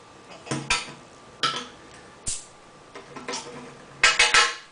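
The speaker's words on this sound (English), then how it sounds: "let me pop this bottle open so I can get it into that glass" Brew Kettle White Rajah IPA bottle being handled and opened: a series of close glassy clinks and metallic cap clicks in short bursts, the last cluster loudest, with faint voice in the background.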